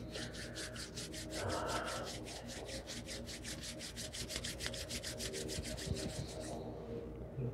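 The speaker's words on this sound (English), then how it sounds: "Slowly rub your hands together." Palms rubbing together during a gentle tai chi and qigong session, a soft rhythmic swishing repeated in quick even strokes, faint and close, stopping near the end.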